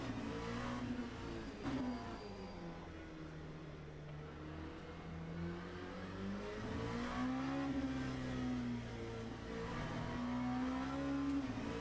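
Cockpit engine note of an LMP2 prototype in the racing sim Le Mans Ultimate, played in VR, climbing and dropping through shifts in a continuous low-volume drone, no voices over it.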